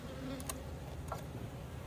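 Honey bees buzz around an old waxed hive, a soft continuous drone at low level with a couple of brief higher whirs as individual bees pass close.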